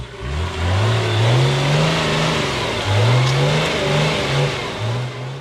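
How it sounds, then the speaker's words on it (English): An HJ47 Land Cruiser ute with a 2H naturally aspirated diesel engine revs and hums close by, its pitch rising in repeated surges as it climbs through gears, loud and unaccompanied by talk. "She has a 2H naturally aspirated diesel engine, and just listen to her hum."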